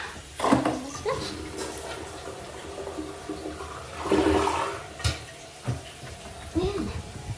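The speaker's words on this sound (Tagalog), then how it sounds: "Let's flush." A toilet flushes in a Los Angeles bathroom being scrubbed clean, the water rushing and gurgling in surges while a voice talks intermittently over it.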